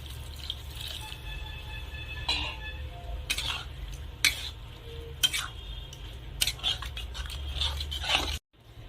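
Pond snail curry with fried spice paste being stirred in a pan: steady scraping strokes with several sharp clanks of the utensil against metal over a low sizzling hum, close and fairly quiet, with no talk.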